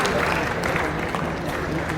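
Audience applause at a state-level youth festival award ceremony in Rajasthan, a steady, dense wash of clapping from a large crowd filling the whole moment without a break.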